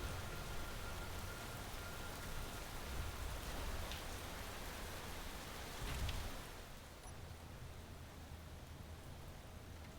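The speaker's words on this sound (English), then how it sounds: "Just rain, okay." Steady rain falling in the video game Space Engineers, a continuous hiss of drops that eases slightly partway through, with no voices.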